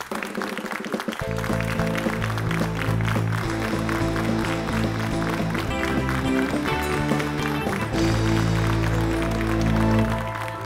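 Audience applause welcomes actress Sana Fakhar onto a late-night talk show stage, a steady wash of clapping running beneath loud, continuous music for about ten seconds.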